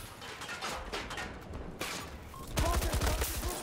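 An RPK light machine gun fires in Battlefield 2042, with rapid bursts of close shots, the last burst loudest and most sustained, among mechanical clicks and background game noise.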